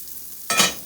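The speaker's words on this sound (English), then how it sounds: "As you can see, it's starting to really sizzle." A vegan burger patty hitting a hot pan: quiet at first, then a sudden loud hiss of frying that swells briefly and holds, with no one talking.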